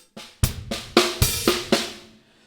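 A funk drum kit groove, with punchy bass drum and snare hits and splashy open hi-hat strokes falling in a syncopated pattern over about two beats, close and alone.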